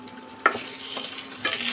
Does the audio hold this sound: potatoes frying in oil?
yes